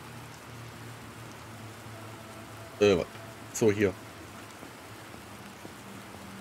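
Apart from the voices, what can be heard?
rain falling in video game The Planet Crafter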